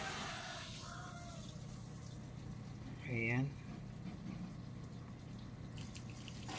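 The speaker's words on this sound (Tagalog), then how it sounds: "Oo nga, malakas yung tubig." Steady rushing water runs from a new faucet throughout at an even level, with a short burst of voice partway through.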